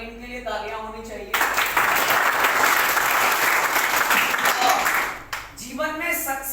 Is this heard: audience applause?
yes